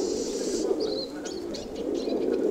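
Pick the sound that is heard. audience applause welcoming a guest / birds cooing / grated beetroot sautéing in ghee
birds cooing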